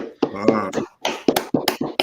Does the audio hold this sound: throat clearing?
no